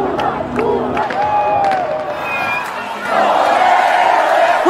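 A dense street crowd in Brazil celebrates a former metalworker's election to a third term as national leader, with loud cheering, whoops, whistles and shouting voices that surge louder after three seconds.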